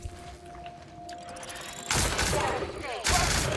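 A turret opens fire in the video game The Outer Worlds, two loud bursts of rapid shots following a quieter stretch with a steady electronic hum.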